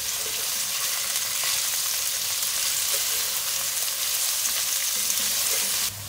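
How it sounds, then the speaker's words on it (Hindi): Onions fry in hot oil toward golden brown for an Old Delhi style beef pasanday, a loud, dense, continuous sizzle up close with light stirring underneath, cutting off abruptly at the end. "प्याज का गोल्डन ब्राउन कलर करना है अच्छे से।"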